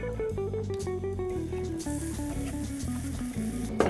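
Tinned mushy peas heat in a pan on a compact sandwich toaster, giving a soft, steady sizzle and bubbling under a faint background hum throughout.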